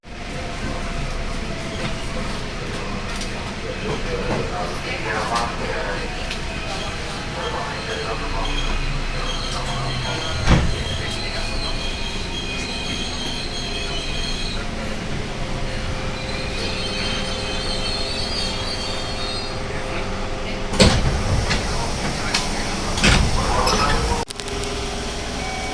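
A KRL commuter train runs from Tangerang toward Pasar Senen with a steady rumble of wheels on rail, occasional squeals and clacks, and voices talking inside the carriage.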